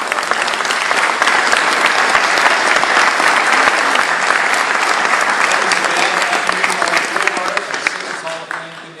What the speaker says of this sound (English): let's give Florida Southern a round of applause